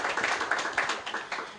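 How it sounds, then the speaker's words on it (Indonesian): A crowd at a church seminar claps together in fairly faint, quick, slightly rhythmic bursts that run without a break for under two seconds. "Boleh sekali lagi berikan tepuk tangan bagi kemuliaan Tuhan"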